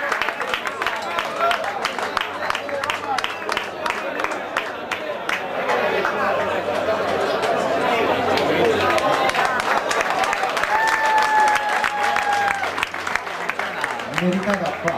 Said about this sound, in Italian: Meritato applauso